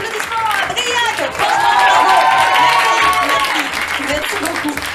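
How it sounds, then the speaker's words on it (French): A theatre audience applauds after an improv comedy show, steady clapping from a crowd that swells and then eases, with voices heard over it. "un tonnerre d'applaudissements à Briac."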